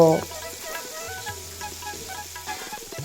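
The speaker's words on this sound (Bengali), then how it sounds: "এরপর ওই তেলেই সামান্য পরিমাণে হলুদের গুঁড়ো এড করে ফুলকপিও খুব ভালোভাবে ভেজে নেব" Cauliflower florets fry in oil with a little turmeric powder, a steady close sizzle running throughout, with faint tonal background music underneath.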